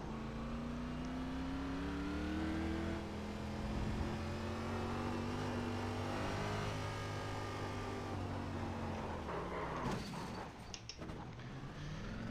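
Race car engine on the Roval track, a steady revving tone with shifting harmonics and gear changes, close and continuous, faltering near the end into rattles and rough bursts.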